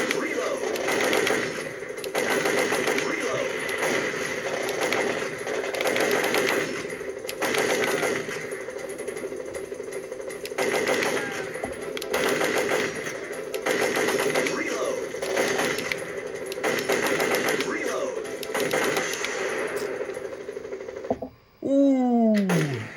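Rapid repeated gunfire from the video game Time Crisis on PlayStation rattles steadily throughout, with game sounds and a sweeping effect near the end, and voices are present.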